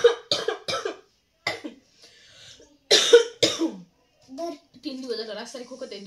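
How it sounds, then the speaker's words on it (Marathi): A person coughs in several short, harsh bursts, clustered at the start and again midway, with a voice talking between and after the coughs. "3 दिवस झाला रात्री खोकत आहे, दिवसा खोकत आहे"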